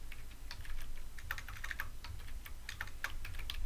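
Steady typing on a computer keyboard, a quick close run of key clicks over a low background hum with no talking.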